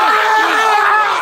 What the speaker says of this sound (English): The scream is so fantastic in that one.